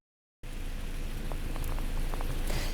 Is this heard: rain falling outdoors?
yes